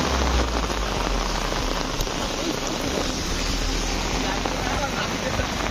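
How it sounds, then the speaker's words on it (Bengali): Heavy rain pours down steadily and loudly, a dense continuous hiss of drops drumming on surfaces with no break across the whole stretch. "প্রচন্ড জোরে বৃষ্টি পড়ছে"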